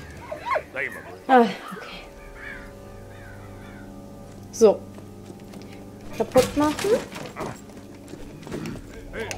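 A dog in Valiant Hearts: The Great War gives several short whimpers and yips in scattered bursts, with quiet tones and some rustling between them.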